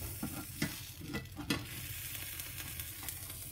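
Lahmacun dough cooking in a frying pan, a soft steady sizzle with a few sharp scraping or tapping knocks early on, fairly quiet and close, no voices.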